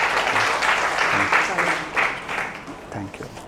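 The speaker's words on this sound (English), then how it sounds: "Big round of applause, please" Audience applause at a Chinmaya Mission gathering, a moderately loud burst of clapping with voices talking over it and rising and falling throughout.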